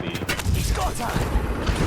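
Rapid bursts of gunfire in the battle royale game Apex Legends, dense close shots crackling over a player's voice for a couple of seconds.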